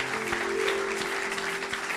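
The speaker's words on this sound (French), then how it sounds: "Acclamons pour Jésus" Congregation clapping in acclaim for Jesus during a lively church service, a dense, steady wash of applause with a sustained musical tone running underneath, continuous and fairly loud for its short length.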